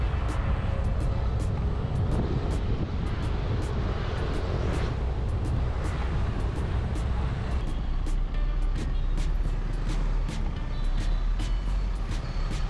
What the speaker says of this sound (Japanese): このように大渋滞ですね。